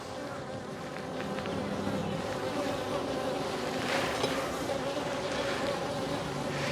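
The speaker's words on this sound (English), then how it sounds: "Got a couple of bees that are not happy with me at all." Agitated honey bees buzz in a dense, continuous swarm close around a beekeeper during a hive inspection, loud and steady throughout, with a brief louder swell near the middle.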